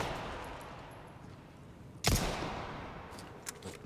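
Gunfire in Resident Evil 4 Remake: one sharp, loud shot cuts through a steady rumbling backdrop, followed by a couple of fainter clicks and impacts.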